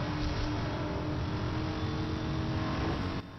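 Racing car engine roaring steadily under nitrous boost in Need for Speed: Hot Pursuit, a continuous loud drone with wind rush, cutting off abruptly at the end.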